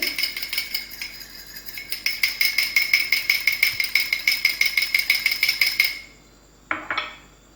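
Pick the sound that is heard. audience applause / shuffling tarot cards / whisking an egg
whisking an egg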